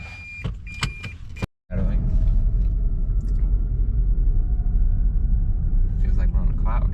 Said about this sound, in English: Now we're test driving to make sure it doesn't fall apart on the road.